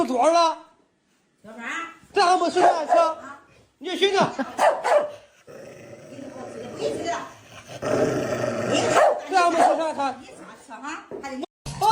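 A dog barks and growls in bursts within playing video footage, mixed with overlapping speech and chuckling, fairly loud throughout.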